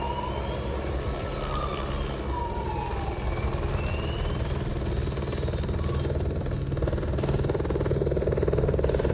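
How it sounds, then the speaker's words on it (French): A police helicopter circles overhead, its rotor beating as a steady low thrum with a droning engine whine, moderately loud and continuous throughout, and sirens wail faintly in the background. "L'hélicoptère s'en va, d'accord, on va rentrer à l'intérieur et regarde, filme l'hélicoptère."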